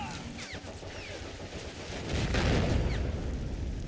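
Mortar fire from a World War II strategy game: repeated booms pound amid continuous battle noise, with scattered shots and whistling, then swell into a louder, denser barrage midway.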